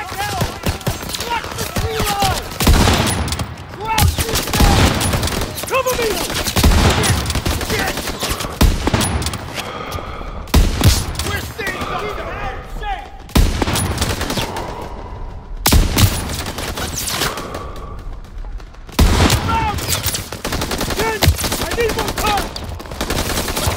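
Dense gunfire fills a Call of Duty WW2 battle, with machine-gun bursts and rifle shots blending into a loud, near-continuous fusillade, broken by brief lulls and occasional shouted voices beneath.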